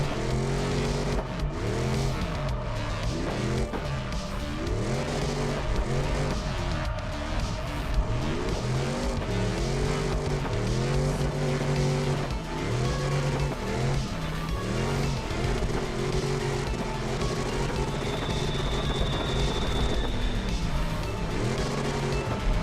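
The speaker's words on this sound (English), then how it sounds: "that's all I hear is just revving like constantly." A car engine revs hard and constantly while drifting, its pitch climbing and dropping in quick repeated surges, loud and close, with tire noise beneath and no talking.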